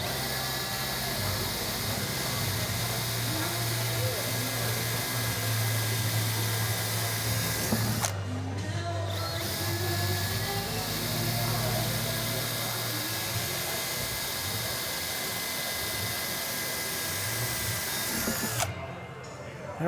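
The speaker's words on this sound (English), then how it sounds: "So we'll go ahead and drill the door." A power drill bores pilot holes into a door for self-drilling, self-tapping screws ahead of mounting a top-jamb door closer, with a steady droning whir running nearly the whole time and two brief pauses.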